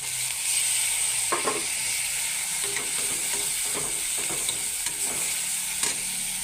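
Taro leaves (kochur shaak) fry in spiced oil in a village-style kitchen, making a steady close sizzle broken by occasional scraping stirs of a spoon against the pan, with no talking.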